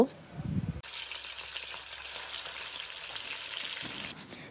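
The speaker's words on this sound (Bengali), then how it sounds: "তো এখন মাছগুলা ভেজে নেই" Fish hit hot oil in a wok and erupt into a sudden loud, steady sizzle that holds for about three seconds before cutting off. Some softer kitchen noise comes first.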